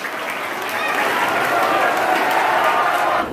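A school crowd claps loudly and continuously for the first-prize poster winner from Class 8 at a Hindi Day program, the dense applause swelling slightly midway and holding steady to the end.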